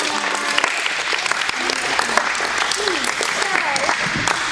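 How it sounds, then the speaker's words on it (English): An ocean conservation gathering gives a round of applause, steady clapping heard over a noisy background with brief voices and chatter mixed in. "Give her a round of applause."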